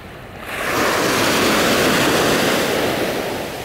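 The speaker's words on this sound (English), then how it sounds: "I love the sea." Sea waves rolling ashore near the Golden Gate Bridge in San Francisco, a loud, continuous roar of surf swelling after a quieter start, with wind rushing across the microphone.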